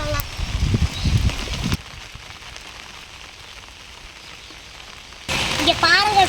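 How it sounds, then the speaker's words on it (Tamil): Steady heavy rain falls outdoors beside a clay-pot whole chicken being cooked, a continuous hiss of drops, with louder rustling and handling noise at the start and end. "மழை பெய்யுதுங்க நல்லா."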